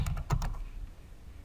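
Someone typing on a computer keyboard, a few quick close clicks at the start, then a short pause and another keystroke at the end, with no talking.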